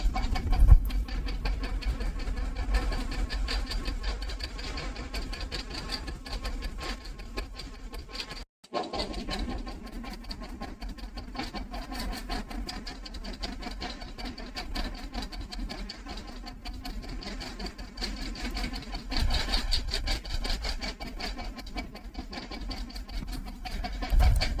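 A sewing machine stitches along a marked square neckline on fabric, a steady close mechanical whirr running almost continuously with one brief pause, no talking.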